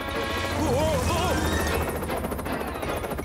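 An animated helicopter in a Thomas and Friends Christmas special whirs steadily overhead, a loud continuous rotor drone with a brief whistling tone sliding up and down early on.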